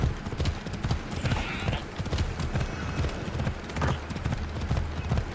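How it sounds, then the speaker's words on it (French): Horse galloping in the Assassin's Creed Odyssey video game, a steady rapid clip-clop of hooves throughout, with someone talking over it. "Finalement ça va assez vite à cheval aussi."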